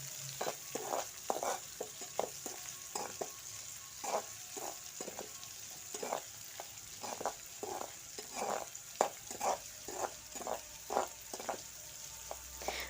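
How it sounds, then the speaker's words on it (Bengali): Onions frying lightly in a pan for an egg curry, a soft continuous sizzle broken by repeated stirring scrapes in an irregular rhythm, close and moderately quiet. "পেঁয়াজটাকে প্রথমে একটু হালকাভাবে লাল লাল করে নেব।"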